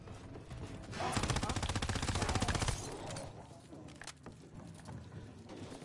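An M1928 submachine gun in Call of Duty: WWII fires one sustained rapid automatic burst of about two seconds, loud and close, then quieter game sounds and scattered distant shots follow while a player talks.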